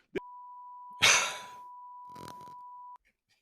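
A steady, high electronic beep holds for about two seconds, with a short breathy burst and faint rustling over it before it cuts off.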